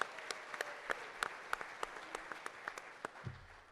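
Applause at a university football press conference, fairly faint and steady, with distinct individual claps standing out in a loose rhythm before it begins to taper off.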